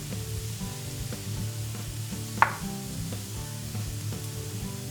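Onion with cumin, pepper and paprika fries in a pan with a soft, steady sizzle and a single brief clink midway, with no voices.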